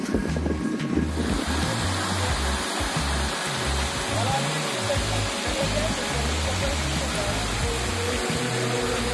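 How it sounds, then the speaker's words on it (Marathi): Small monsoon waterfalls and flowing water on the slopes of Jivdhan Fort rush and splash continuously close by, with gusts of wind buffeting the microphone in low thumps throughout. "छोटे छोटे धबधबे दिसायला सुरुवात झाली म्हणजे उतरत्या दिशेने वाहणारं पाणी"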